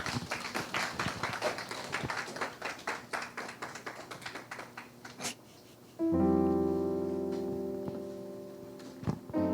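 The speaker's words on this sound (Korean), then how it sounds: "뜨거운 박수로 환영해 주시기 바랍니다" A congregation at a church youth-group service claps for performers, a steady run of sharp hand claps that slowly thins out before sustained piano-like tones begin.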